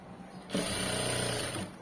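A sewing machine stitches a seam along the side of a garment, a steady close whirring burst of about a second and a quarter that starts abruptly and then stops, with no talk over it.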